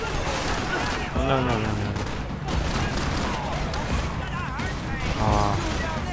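Sustained gunfire from a firefight in the video game Max Payne 3, with dense overlapping shots and crashes running throughout, loud and close, while someone speaks briefly over the shooting.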